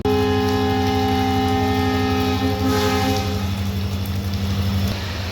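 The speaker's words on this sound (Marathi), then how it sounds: "लोंढा जंक्शनवरून आपली ट्रेन निघालेली आहे जबरदस्त पावसामध्ये." Train pulling out of Londa junction in heavy monsoon rain on the Dudhsagar waterfall line: a loud, steady engine drone with sustained horn-like tones that hold for about five seconds before fading slightly.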